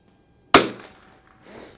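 A single sharp crack from an H&R M-12 .22 target rifle with a 16x Fecker scope, fired at a range at 50 yards. It is close and loud, decays quickly, and is followed by faint rustling.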